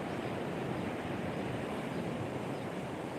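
Ocean surf at Batu Mikhau beach in Krui, a steady broadband wash of waves with some wind, constant and unbroken, no voices.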